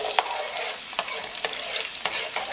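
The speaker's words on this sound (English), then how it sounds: "now that it's hot, I'm going to add the onion to it and start stirring" Onion fries in hot canola oil on high heat while being stirred, a continuous loud sizzle broken by regular scraping strokes of the spoon for Nigerian egg stew.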